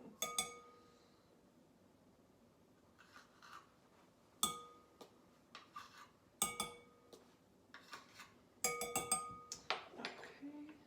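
A measuring spoon clinks against a container while scooping baking powder for keto apple cider donut bites: sharp, close metallic taps in small clusters over a quiet room, separated by stretches of near silence.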